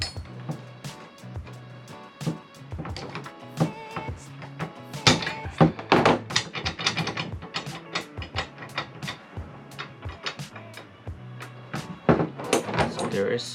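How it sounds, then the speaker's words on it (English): Metal parts of a budget fender roller are screwed together by hand, giving repeated close clinks, clanks and rattles in an irregular rhythm, with some speech between them. "now we want to screw this in so there's like no slack on it"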